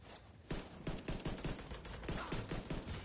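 Rapid bursts of gunfire from a shooting video game, repeated sharp shots in quick volleys filling the whole stretch, loud and close with no voices over them.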